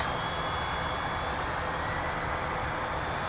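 An eFlite Spitfire electric model airplane on a no-flap takeoff run, a steady broadband whir and whine of the motor and propeller, with constant loudness throughout.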